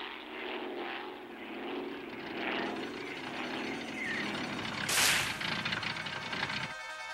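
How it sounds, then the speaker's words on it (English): A propeller airplane drones steadily overhead for several seconds, the engine note rising and swelling, with a sharp burst of noise near the end in an animated sixties cartoon scene. "Listen, I hear a plane."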